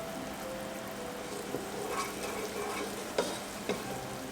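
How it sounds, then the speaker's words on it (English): Cookie mixture coming to a boil in a pot on the stove, giving a steady soft bubbling and sizzling hiss with a few faint clinks, moderately quiet and close, no talking. "now it's starting to boil"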